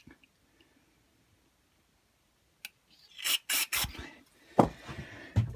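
Carburetor cleaner spraying in a few short, close hissing bursts after a quiet stretch, followed by a sharper spurt and some light rubbing noise.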